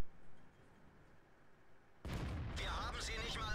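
A tank cannon firing in World of Tanks, a sudden loud blast partway through that follows a quiet stretch and then rumbles on. A voice talks over it.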